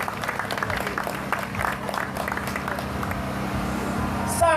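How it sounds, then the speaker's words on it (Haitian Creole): An audience at the final of a Creole text contest in Haiti applauds with a steady patter of clapping under crowd noise and some voices, moderately close, lasting several seconds. "Nous allons remettre force, nous allons remettre courage, on applaudit."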